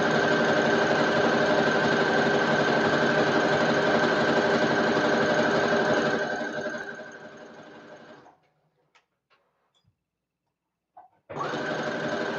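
A sewing machine stitches stretch knit fabric in a steady, loud, continuous whir for about eight seconds, stops to near silence, then starts running again briefly.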